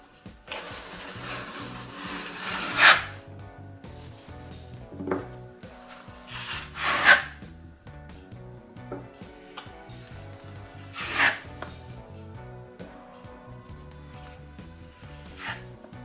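A filling knife drags plaster across an indoor wall in four separate rasping strokes, spaced a few seconds apart, over a quiet low hum.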